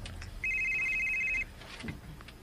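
A mobile phone in a pocket rings with a single steady electronic warble lasting about a second, clear above quiet room sound.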